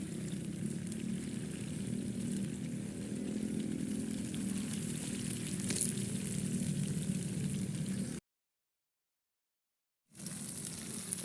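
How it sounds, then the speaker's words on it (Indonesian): Rare bamboo mushrooms fry in a pan, giving a steady, low-level hiss and sizzle that cuts out briefly to silence near the end before resuming. "kita goreng seperti ini teman-teman."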